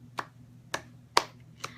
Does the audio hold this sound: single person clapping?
yes